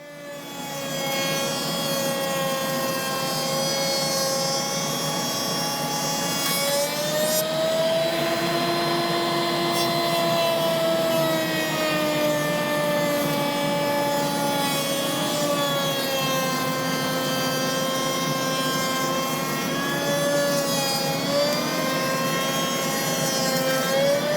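A router table cuts grooves in door-frame stock that is held by feather boards, giving a loud, sustained high whine with a steady cutting hiss as the wood is fed through.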